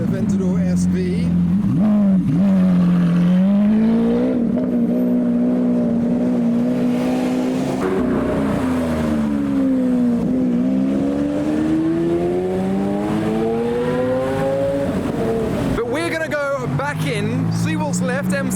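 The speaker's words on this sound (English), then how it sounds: "And now for the more modern V12 Lamborghini, the Aventador SV." A Lamborghini Aventador SV's V12 engine revs and drives past on a public road, a loud sustained drone rising and falling in pitch through gear changes, with a sharp burst of revving near the end and talk over it.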